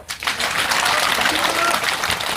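A crowd breaks into applause, a dense wash of clapping that holds steady for a couple of seconds, with voices mixed in.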